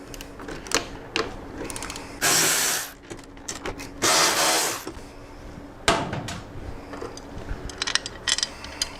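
Ratchet wrench removing two bolts from the license plate bracket of a 1997–2008 Harley-Davidson Touring motorcycle, heard as close, repeated clicking ratchet strokes with two longer, louder bursts of cranking.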